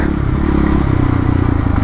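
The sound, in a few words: Yamaha YZF 450 supermoto motorcycle engine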